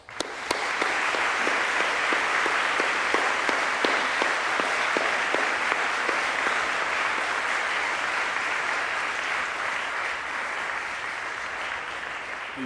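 Large audience at a 2009 University of Manchester graduation ceremony applauds in a long, even wash of clapping that continues for over twelve seconds, a few sharp individual claps standing out early before gradually tapering slightly.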